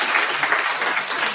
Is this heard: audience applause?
yes